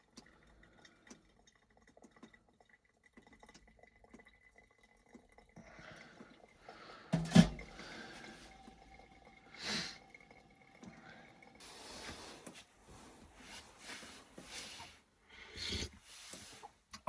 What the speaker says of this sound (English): The dripping, as the snow melts, the dripping water onto the stove